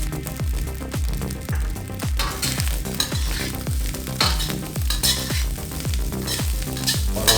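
Egg fried rice with spring onion is stir-fried in a hot pan, with a continuous sizzle. A spatula scrapes and clanks against the pan in a quick, regular rhythm, loud and close.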